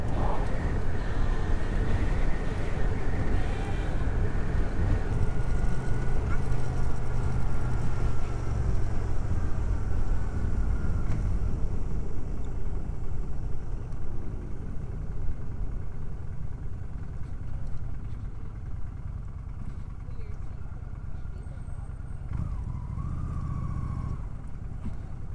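A Honda CB 500 X motorcycle hums steadily while riding on a long-distance trip, a continuous mid-pitched engine drone with wind rush that eases slightly over time, with no talking.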